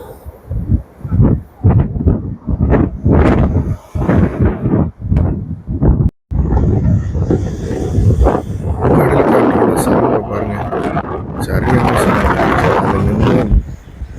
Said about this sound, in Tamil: நம்மளே தள்ளிச்சு அவ்வளோ ஃபோர்ஸாக இருந்துச்சு காற்று